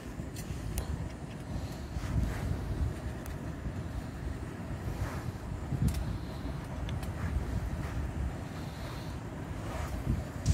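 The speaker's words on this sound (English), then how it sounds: "The wind's a bit brutal, but it's keeping the bugs out of camp" Strong, gusty wind buffets the microphone at a lakeside wilderness campsite, a continuous low roar with surging gusts throughout and no voices.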